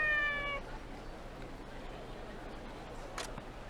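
A cat in the video game Like a Dragon: Ishin! gives a short, close meow at the very start, then the scene falls to a low steady ambient hum.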